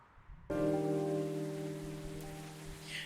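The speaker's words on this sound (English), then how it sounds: "It's pouring!" Heavy rain pouring, starting abruptly as a dense, steady hiss of rainfall that holds at the same level over a low sustained hum, with no talking.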